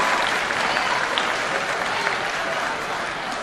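A crowd at a high school sports game applauds a cheerleader group, a continuous wash of clapping from many people held at an even level throughout.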